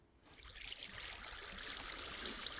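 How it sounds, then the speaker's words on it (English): Flowing water in the Minecraft video game makes a steady, fairly loud rushing hiss that runs unbroken, with no talking. "That water is very loud."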